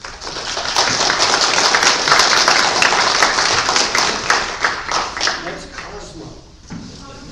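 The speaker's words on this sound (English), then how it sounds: "Give him a round of applause." Audience applause for presenter Stephen Andrasko at a conference, a dense, steady wash of clapping that swells early and thins out toward the end, with voices mixed in.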